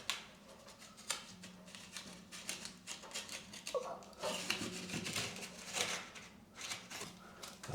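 Scissors snipping through peeling wallpaper to clear room for a paintbrush, a quiet run of close, rapid crisp cuts and rustles with no voices.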